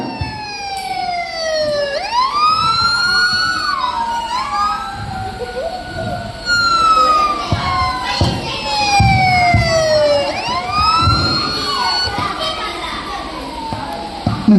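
Wailing emergency siren at a Vacation Bible School event, its rising and falling sweeps repeating loudly over several cycles while children shout and talk underneath.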